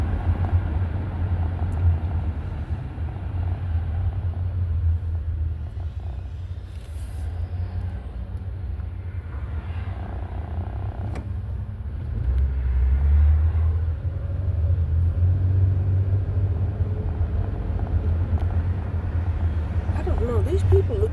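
A car moves through busy traffic, its low engine and road rumble running steadily throughout, rising a little midway, while a voice talks over it almost continuously.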